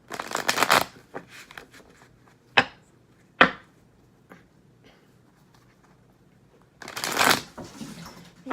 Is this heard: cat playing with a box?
yes